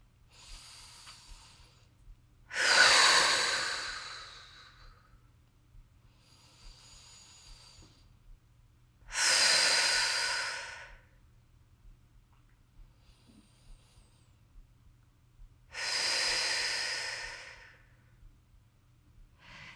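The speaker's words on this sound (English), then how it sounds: "Enjoy 3 more deep breaths here. Make those inhales come in through your nose and blow the exhales out your mouth." Three slow, deep breaths spaced evenly apart, each drawn in through the nose and blown out through the mouth, close and breathy over a faint steady hum during a balance workout.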